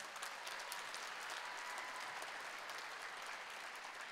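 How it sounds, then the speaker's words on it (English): A crowd at the 2022 Pacific Northwest FIRST Robotics district championship ceremony claps in a steady, even patter of many hands, heard faint and distant, with no voices over it. "let's clap for that."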